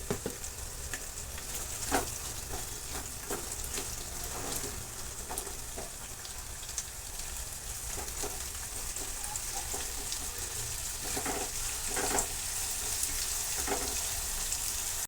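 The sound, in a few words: frying onions with salt in oil for kande pohe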